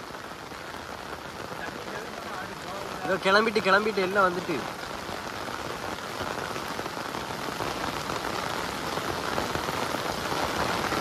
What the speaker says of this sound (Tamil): மழை ஓவரெல்லாம் வருது கூட கொஞ்சம்